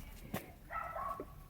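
A dog barks faintly in the distance at the edge of a village, reached at the end of a forest hiking trail on Kai Kung Shan in Hong Kong; a short, quiet run of barks plays over outdoor background noise.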